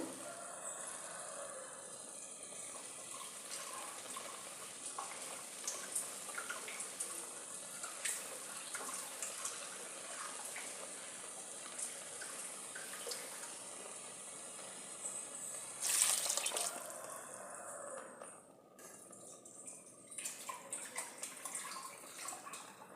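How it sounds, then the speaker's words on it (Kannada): Water is poured into a cooking pot while making a vegetarian sambar, a continuous close splashing and trickling that runs for most of the stretch, then briefly stops and resumes in softer bursts. "ಇದಕ್ಕೆ ನಾನು ನೀರು ಎಷ್ಟು ಬೇಕೋ ಅಷ್ಟನ್ನು ಹಾಕ್ತೀನಿ"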